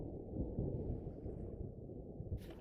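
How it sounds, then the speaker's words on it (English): Deep rolling thunder from an approaching storm in a survival video game rumbles continuously, heavy and low, with a brief hiss of wind or rain near the end. "That storm is rolling."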